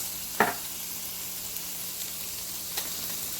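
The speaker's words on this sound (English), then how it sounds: "And now I'm going to go ahead and add the red onions" Red onions hit a hot pan with fat in it, giving a faint, steady sizzle with a couple of soft clicks. No voices.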